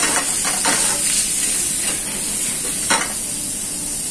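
Vegetables brown in a hot pan for seafood pasta, a loud, steady frying sizzle and hiss up close, with a few brief stirring scrapes over the continuous crackle.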